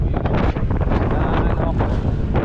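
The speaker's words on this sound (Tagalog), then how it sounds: "medyo may kalakasan ng hangin ngayon" Strong, steady wind buffets the microphone at the Taal Volcano viewpoint in Batangas, a loud continuous rumble with gusty roaring and no break across the whole stretch.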